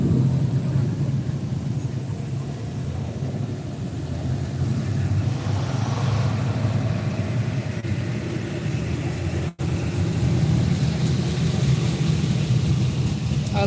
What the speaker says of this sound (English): I love big cam sounds.